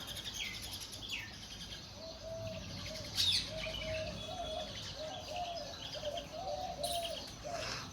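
Birds chirp and call in the morning over a steady outdoor hiss, with a repeated soft warbling call and occasional sharp higher tweets, moderately distant.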